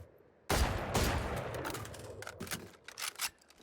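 Rapid bursts of gunfire from a scoped gun in the video game Valorant, a loud sharp first shot followed by a quick run of crisp cracks fired as fast as possible, close and with no talking.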